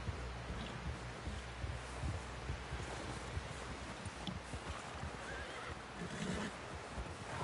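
A horse in Red Dead Redemption 2 whinnies and snorts near the listener, with hooves shuffling and leaves rustling in steady wind and no talking.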